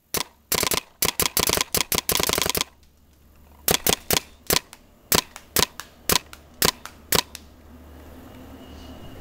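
A stock Smartparts Ion paintball marker fires sharp, close pops: a fast string of shots, a short pause, then a steadier series of evenly spaced shots before quiet.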